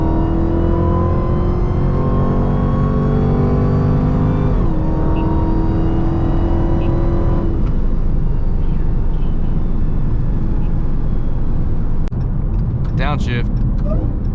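A Dodge Charger Hellcat accelerating hard in highway traffic, heard from inside as a loud, close engine roar with rising tones that drop at each gear change, then a sustained blast of wind and road noise.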